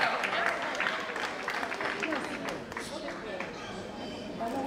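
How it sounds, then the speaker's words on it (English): Audience applause at a preschool and primary school graduation ceremony, a steady dense clapping that holds for the full span with voices mixed in. "Please a round of applause"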